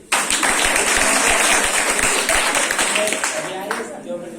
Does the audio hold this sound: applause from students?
yes